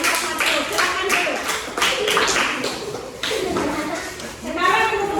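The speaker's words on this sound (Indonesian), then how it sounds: "kita beri tepuk tangan untuk kelompok Matius" A school class claps together for a group of students, a sustained burst of mixed applause with children's voices and a little laughter underneath.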